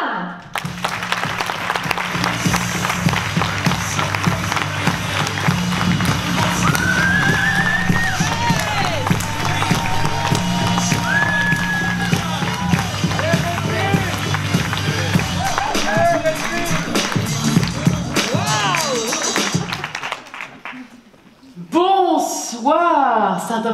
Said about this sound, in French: Merci de faire un tonnerre d'applaudissements à Delphine Van.